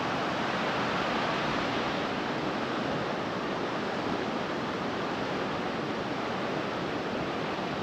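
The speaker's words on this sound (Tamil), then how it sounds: "பயங்கர செம்மனாக வருதுங்க தண்ணி" Stream water rushing strongly in the Javvadhu hills, a steady dense broadband roar that stays loud and unbroken throughout, with no talking.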